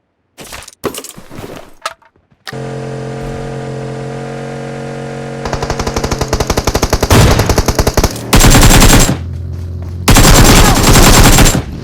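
PUBG Mobile gunfire is heard at close range and loud: a few sharp single shots, then sustained rapid automatic bursts broken by short pauses.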